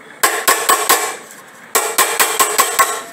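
A small hammer taps soft aluminium near a faucet in a workshop, two quick runs of about five ringing metallic strikes each separated by a brief pause, close and bright with no talking.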